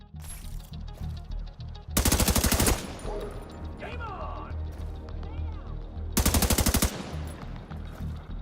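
Automatic weapon fire in The Division 2 video game comes in two loud, rapid bursts, each lasting under a second, with game sounds and ambient effects continuing between them.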